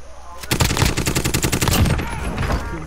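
An M4 rifle in Call of Duty Cold War fires in rapid automatic bursts, a loud, close, fast rattle of shots that continues with little pause.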